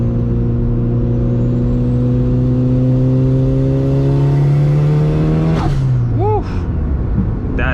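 A turbocharged Mitsubishi Evo engine revs hard under acceleration, a loud sustained rising drone that drops sharply near the end. The sound is close and continuous, heard from inside the car.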